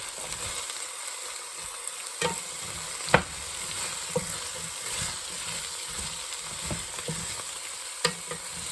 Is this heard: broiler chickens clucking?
no